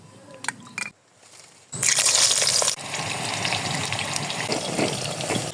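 Cooking oil poured into a pan over an open fire outdoors: a brief clear trickle, then a loud steady rushing stream that eases slightly into a continuous pour, close and alone.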